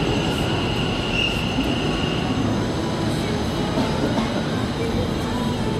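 An Ahmedabad metro train runs with a steady, loud rumble of rolling wheels and car noise that fills the whole stretch, a faint high squeal rising briefly early on, with no talk over it.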